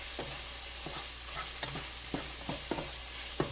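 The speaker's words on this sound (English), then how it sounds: "I'm going to go ahead and stir this." Peppers cooking in a pot for taco soup, stirred with a utensil: a soft continuous sizzle broken by about nine distinct knocks and scrapes against the pot at an irregular, unhurried pace, close and clear.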